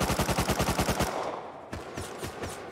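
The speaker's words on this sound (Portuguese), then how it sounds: "Pronto, tô atirando ali, viu aí?" Automatic gunfire in the survival game Rust: a rapid, steady burst of about a dozen loud shots for the first second, then scattered single shots and distant cracks over a quieter background.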